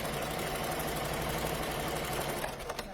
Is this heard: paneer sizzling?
no